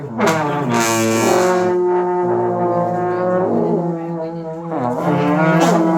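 A brassy trombone blares long sustained notes, sliding between a low and a higher pitch, loud and close, with brief breaks between blasts.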